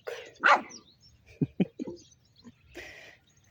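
A dog lets out a couple of short barks followed by low, throaty growling grunts, close by, with brief quiet gaps between, as it chases off hedgehogs eating its porridge.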